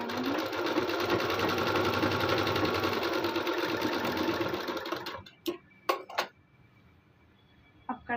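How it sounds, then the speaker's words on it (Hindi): A sewing machine runs a steady, continuous stitch along the edges of a suit lining for about five seconds, then stops, followed by a few sharp clicks and handling taps close by. "तो अब इस पर किनारे किनारे एक एक सिलाई लगाते हैं।"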